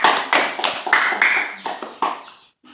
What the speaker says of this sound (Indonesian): Tepuk tangan dulu untuk Mbak Salsa.